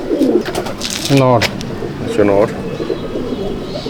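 Madrasi pigeons cooing in two distinct rolling bursts close up, with someone speaking briefly over them.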